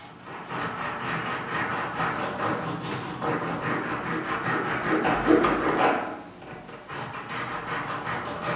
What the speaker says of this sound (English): With a small saw, he scores the decorations.